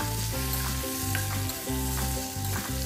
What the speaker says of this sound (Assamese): আৰু ইয়াতে দি দিছোঁ এতিয়া হালধি আৰু অকণমান জলকীয়া গুড়া আৰু এইখিনি আৰু অকণমান সময় ভাজি ল'ম